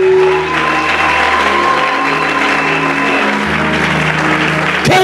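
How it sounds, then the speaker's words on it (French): A church congregation applauds Jesus together during a Sunday worship service, a steady dense wash of clapping that holds for about five seconds over a sustained musical tone. "Acclamons Jésus très fort."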